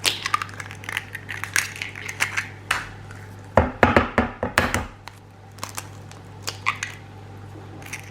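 Two eggs being mixed into baked oats batter in a bowl, a run of wet squishing and spoon knocks against the bowl, clustered in a busy middle stretch with lighter taps before and after.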